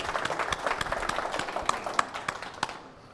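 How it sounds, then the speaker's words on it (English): An audience applauds after a classic car valuation panel at an automotive museum, a brisk patter of clapping with a few louder nearby claps before it tapers off. "Big round of applause for John."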